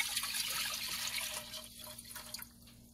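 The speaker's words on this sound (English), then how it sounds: "And now I'm going to pour the liquid" Dandelion liquid is poured back into a cooking pot, a steady trickling splash that gradually thins into lighter drips as the stream tapers off.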